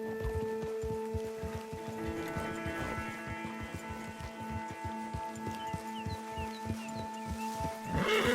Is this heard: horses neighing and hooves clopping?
yes